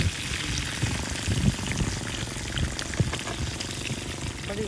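Fish fries in hot oil outdoors with a dense, continuous crackling sizzle and occasional sharper pops and clicks as the pieces are lifted out.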